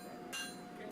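A blacksmith's hammer strikes a Bowie knife blade held at an angle on the forge, two sharp ringing blows about half a second apart over a low background hum.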